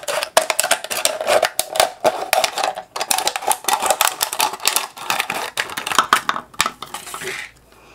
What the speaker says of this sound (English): So I'm going to cut some different pendants.